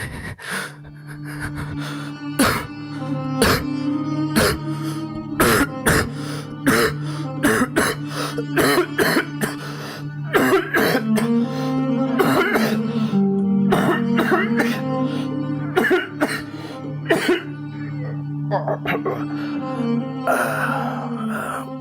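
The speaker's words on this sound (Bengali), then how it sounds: "সে কাশতে থাকে বেদম ভাবে কি ভয়ানক কাশি" A person coughs violently and without stopping, with harsh, rapid bursts repeating close up for over twenty seconds above a steady low tonal background.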